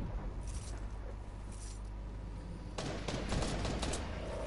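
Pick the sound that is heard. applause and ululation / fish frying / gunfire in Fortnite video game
gunfire in Fortnite video game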